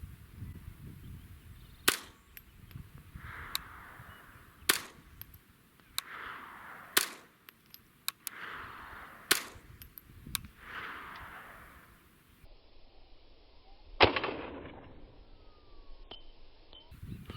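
Ruger 10/22 rifle fired during a rabbit hunt outdoors, sharp distant-sounding cracks spaced a few seconds apart, around seven shots with quiet ambience between them.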